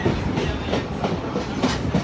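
A passenger train on the Niles Canyon Railway rolls along the original Transcontinental Railroad right-of-way, steady rumble with rhythmic clickety-clack of wheels over rail joints, close and continuous throughout.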